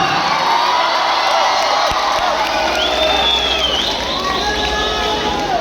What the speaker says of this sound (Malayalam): ഒരൊറ്റ കയ്യടിയിൽ തുടങ്ങാം